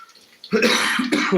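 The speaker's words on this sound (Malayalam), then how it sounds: "ചുമയൊക്കെ പിടിച്ചോട്ടോ" A couple of harsh, close coughs, loud and abrupt after a quiet start, with a brief pause between bursts.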